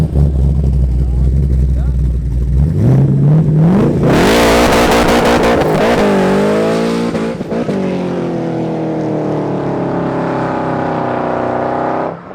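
A powerful LS1 V8 engine with a big cam and built heads idles low on a dyno, then revs hard and holds a loud, rising roar with harmonic whine, staying loud until it cuts at the end; voices murmur underneath.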